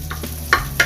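Bitter gourd (ampalaya) cooks in a pan over a low, steady sizzle, with a few sharp scraping stirs close by in under a second.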